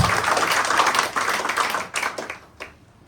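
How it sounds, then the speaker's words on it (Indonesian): A church congregation at a Sunday service claps together, a dense, lively patter of many hands that thins out and fades toward the end, leaving a few last scattered claps. "Boleh tepuk tangan buat Tuhan kita semua"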